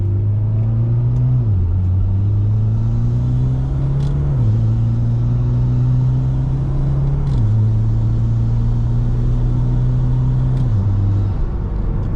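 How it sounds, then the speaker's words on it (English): Mitsubishi Lancer Evolution X fitted with a test pipe, a steady deep exhaust drone while driving that rises in pitch through each gear and drops at the shifts, loud and close with no talking. "this is the way the exhaust sounds"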